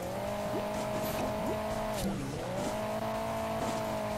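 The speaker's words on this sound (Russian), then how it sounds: "Поехали попробуем на фуре проехать сельский кубок." A truck in the video game Hill Climb Racing 2 drives with a steady, droning engine, pitch dipping and recovering briefly midway, alongside short tire squeals and scrapes, no talking heard.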